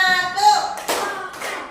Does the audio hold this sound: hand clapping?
yes